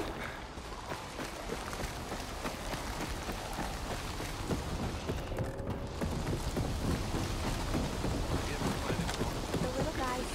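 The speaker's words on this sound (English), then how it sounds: "Hold on, it's raining." Steady rainfall in the Dying Light 2 game world, a dense even hiss of drops on surfaces with a low rumbling undertone that holds constant and fairly loud throughout.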